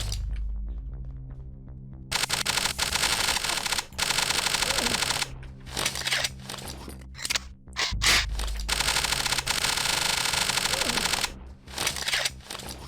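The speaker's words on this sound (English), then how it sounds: "the gunshot noises for this silenced submachine gun, assault rifle, yeah, they're really kind of like tinny and muted" Rapid bursts of muted, tinny gunfire from a silenced submachine gun in the FPS Creator game OPS Hong Kong, a fast mechanical clatter in repeated strings broken by short pauses, loud and close over a low background hum.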